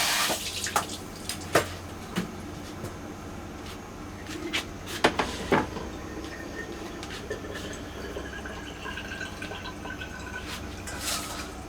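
Beef-soup ingredients are washed under a running kitchen tap, steady water flow with irregular clunks, splashes and knocks against the sink, close and fairly loud.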